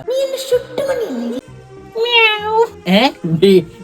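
A person imitates a cat, giving several drawn-out meows close to the microphone, separated by short pauses.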